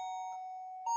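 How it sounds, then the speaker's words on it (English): Doorbell ringing in a UK home as a sustained electronic tone, fairly faint, with a brighter second chime starting right at the end. "As soon as I start a video, the doorbell goes."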